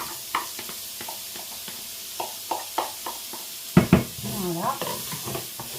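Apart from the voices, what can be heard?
small onions sautéing in sunflower oil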